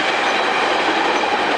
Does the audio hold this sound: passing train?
yes